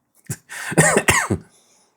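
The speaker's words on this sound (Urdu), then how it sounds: "میری کھانسی دیکھو" A person coughs several times in a short, rough burst, loud and close, with a throaty clearing quality.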